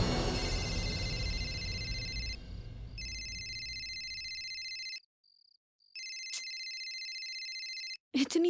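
A telephone ringtone plays late at night, loud and electronic, in repeated bursts with short pauses between them, then breaks off near the end as a brief voice begins.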